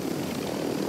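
Helicopter rotor and engine drone in a multiplayer shooter video game, a steady continuous whir held at a constant level throughout without voices.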